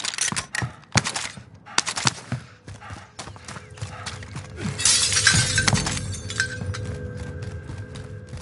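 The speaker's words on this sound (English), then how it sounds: "Sniper rifle." Sniper rifle fire in a PS4 shooter sounds as a series of sharp, loud cracks with glassy shattering debris, followed by a denser burst of rumbling impacts and ringing tones, with no talk.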